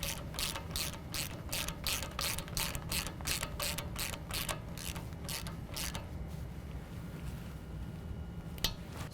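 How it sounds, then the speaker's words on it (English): A 13mm ratchet tightens a CV shaft nut on a 2015-17 Ford F-150 4WD during a lift kit install, giving a fast run of close, crisp clicks that slows, pauses and ends with a few scattered mechanical ticks. "Now I'm going to use a 13mm to tighten down the CV shaft nut."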